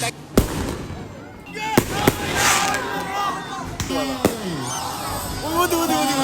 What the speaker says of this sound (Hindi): आतिशबाजी हो रही है इधर।